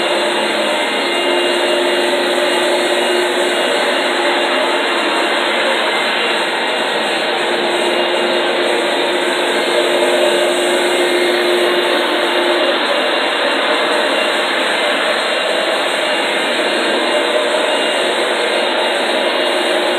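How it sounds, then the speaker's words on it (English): A Rug Doctor carpet cleaning machine runs along a living room wall, giving a loud, steady motorized whine and whoosh of suction that holds constant throughout with no talk. "You want to go along the wall with the machine because it cleans right up to the edge."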